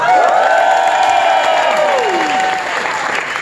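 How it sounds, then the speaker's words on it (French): Crowd at a Liberal political rally in Sherbrooke applauds and cheers for a candidate, loud dense clapping with whoops and shouts, sustained throughout. "Encore une fois, une bonne ronde d'applaudissements pour Isabelle Bruyère!"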